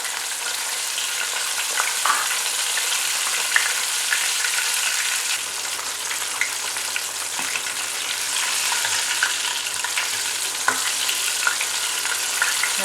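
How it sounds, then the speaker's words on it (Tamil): Chicken pieces coated in Hapima crispy fry mix sizzle steadily in hot oil, a dense continuous crackle with occasional sharper pops and faint stirring, close and without talk. "இன்னொரு தடவை இந்த சைடு திருப்பி ஃப்ரை பண்ணுறேன்."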